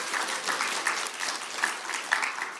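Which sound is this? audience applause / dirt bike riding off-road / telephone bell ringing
audience applause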